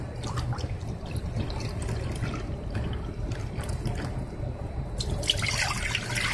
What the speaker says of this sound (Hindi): जिस कटोरे से मैं मुरमुरे ली थी उसी कटोरे से मैं पानी लूंगी